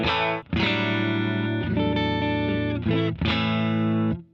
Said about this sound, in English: I'm going to play the old trusty Telecaster into the Victory V40 to start with for some cleaner tones